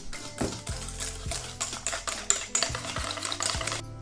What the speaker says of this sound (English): Give this another mix.